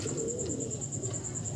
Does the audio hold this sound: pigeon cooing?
yes